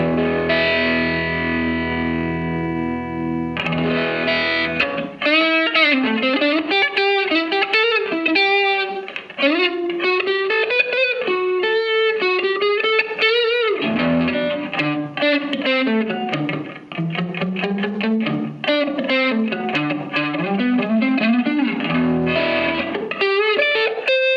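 An electric guitar plays through a Fender Frontman 212R amp's built-in analog light overdrive channel: a sustained distorted chord, then a run of overdriven melodic single-note phrases and bends, loud and close.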